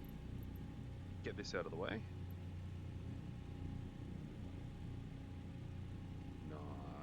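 The twin engines of a He 111 bomber in a flight simulator, MSFS, hum as a low steady drone under a voice, with a brief whine rising near the start.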